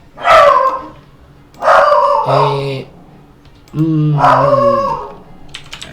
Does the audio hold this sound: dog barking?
yes